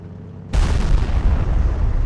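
A tank cannon fires in World of Tanks on the Himmelsdorf map, a sudden loud boom that cuts in from near silence and rolls on as a dense, sustained blast rumble for over a second and a half.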